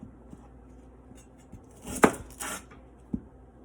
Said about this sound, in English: I like to find a little spot in between the 2 shallots and cut a slit